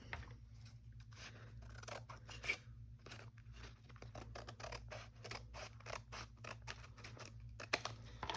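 Scissors cut down sheets of journal material for a vintage sewing journal, giving quiet, rapid snipping strokes with paper rustling, close up and low in level, with no talking.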